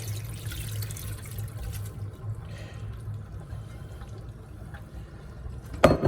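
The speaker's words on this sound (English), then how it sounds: "And now we're going to drain it into the colander" Water from blanched cabbage leaves pours into a colander, a steady low running splash that thins out before a sharp clatter near the end.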